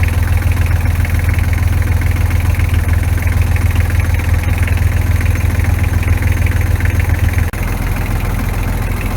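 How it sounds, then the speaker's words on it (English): Sailboat engine running in gear with the propeller spinning, a loud, steady close-up throb from the engine compartment that dips slightly near the end. "this is the motor in gear with prop spinning"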